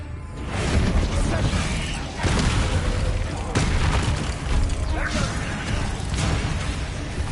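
Bombarda and Confringo blast spells in the game Hogwarts Legacy, a run of heavy booming explosions with crashing debris and whooshes, loud and close, bursting repeatedly over a steady rumbling background.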